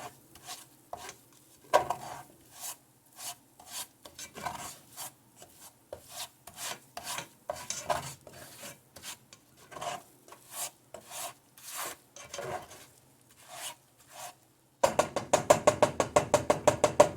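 A spoon scrapes and stirs flour through a pan for mac and cheese, giving close, repeated rasping strokes in an uneven rhythm that turns faster and denser near the end, with no voices.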